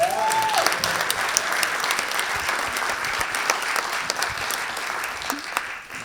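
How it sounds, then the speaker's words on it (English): Steady, dense audience applause at an evening event honoring an a cappella group, loud and sustained for the full stretch with a brief whoop early on and no talking over it. "Can we get another round of applause for the wonderful"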